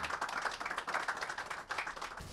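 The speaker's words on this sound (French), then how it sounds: "Sous vos applaudissements." An audience at a CIE and FIF partnership signing ceremony applauds, giving a short burst of dense, moderately loud clapping without speech.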